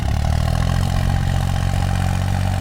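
A New Holland 4x4 tractor's diesel engine runs at a steady idle, loud and close, with a continuous low throb and clatter and no voices over it.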